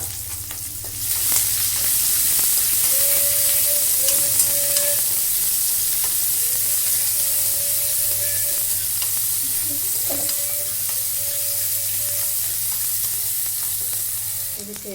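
Capsicum, paneer and peas frying in oil with curry leaves and chopped onion for paneer masala, a loud continuous sizzle close by, with occasional utensil scrapes and faint tonal whines over the steady hiss.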